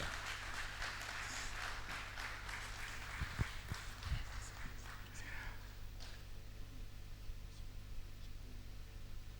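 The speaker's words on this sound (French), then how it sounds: "Sous vos applaudissements, la salle." Sustained crowd applause, many hands clapping steadily at a moderate distance, fading slightly toward the end.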